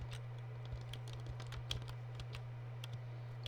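Quick, light clicks of a computer keyboard as a spreadsheet formula is typed, irregular bursts of keystrokes over a steady low electrical hum.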